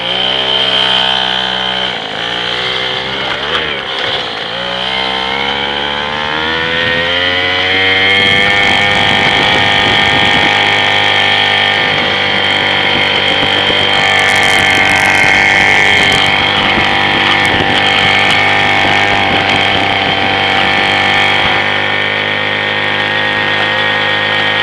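Worn gas-powered scooter engine running loud and steady throughout, its pitch rising and settling as it revs up from a cold start and carries on over a bumpy ride.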